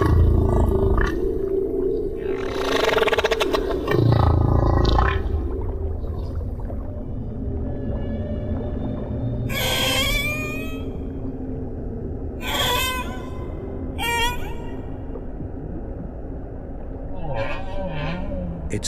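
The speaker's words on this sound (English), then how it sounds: "humpbacks have been singing their extraordinary, complex songs for millions of years" Humpback whale song from older, larger males underwater: long moaning tonal calls and rising whoops in a series of distinct phrases, over a steady low ocean rumble.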